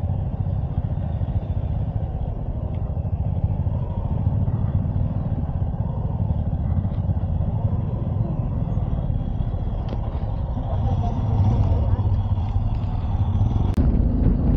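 Steady rumble of a motorcycle engine cruising at 50-60 on a ride through Khardung La and Nubra in Ladakh, loud and close, with wind and road noise throughout.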